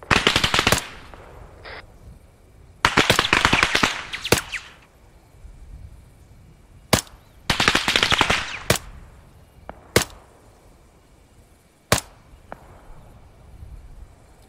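Automatic rifle fire in the military shooter ArmA 3, heard as loud, rapid bursts separated by pauses, mixed with isolated single cracking shots over roughly fifteen seconds.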